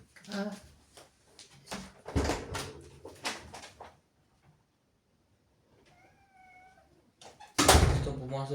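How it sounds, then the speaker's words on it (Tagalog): A cat lets out a short, faint meow in a quiet gap indoors during a mahjong game, with clattering tiles and chatter before it and a sharp knock near the end. "Yung pusa yan."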